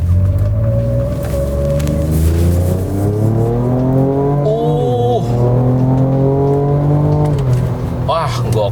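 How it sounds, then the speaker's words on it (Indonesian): A Ford Ranger Raptor's V6 engine and exhaust pull hard in 4A mode out of a corner, a loud rising drone climbing through the gears with a shift dip midway, under continuous talk. "suara knalpotnya itu satisfying banget, thanks to mesin V6-nya"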